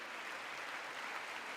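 A large audience applauding at the State of the Union address, a steady dense wash of clapping with no breaks.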